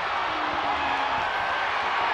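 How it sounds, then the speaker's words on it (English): A dense arena crowd roars and cheers without pause during a WWE 2K24 wrestling match, loud and steady with whoops rising out of the din. "The sound of this crowd is deafening, and he's asking for more."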